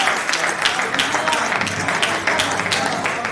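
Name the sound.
audience applause for a poet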